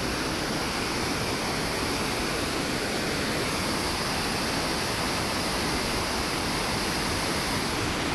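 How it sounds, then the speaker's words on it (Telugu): Chelimela waterfall near Thiryani rushes in a dense, steady roar of fast-flowing water, loud and close, with no break or voices throughout. "వాటర్ ఫ్లో చూడండి ఎంత హై స్పీడ్తోనే పోతుంది ఫ్లో."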